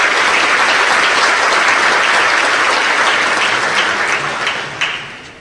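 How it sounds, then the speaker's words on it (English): Loud, dense applause from a large audience at a mayor's State of the City address in Long Beach, sustained and even throughout before tapering off slightly toward the end. "Let's give them a big round of applause for all of their work."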